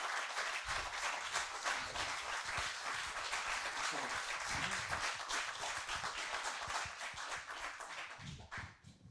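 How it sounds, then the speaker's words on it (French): Long audience applause at an eloquence evening, a sustained crowd of clapping hands lasting around nine seconds, fairly quiet and distant overall, with a few individual claps standing out before it thins at the end. "Quand les applaudissements sont longs, c'est bon signe."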